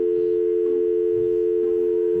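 Steady telephone tone after a call is cut off, a single unbroken electronic hum holding at even loudness throughout with no voices.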